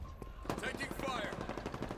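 Halo Infinite gunfire on the Bazaar map crackles in rapid bursts, automatic weapons rattling at mid distance amid game noise, with a brief in-game voice line over it.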